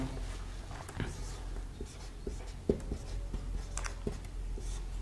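Pen scratching on paper while notes are written, with soft strokes and small taps in an uneven rhythm over a steady low background hum. No talk is heard.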